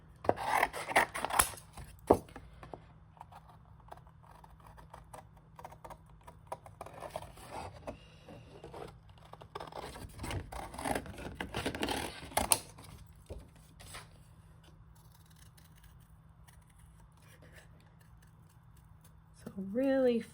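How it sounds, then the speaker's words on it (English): Scissors snip and rasp through a small paper card piece for a stamp craft, faint, intermittent cuts with rustling in a quiet room, and a voice briefly speaks at the end. "So let's cut this out."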